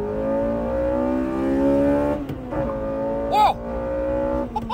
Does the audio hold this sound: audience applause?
no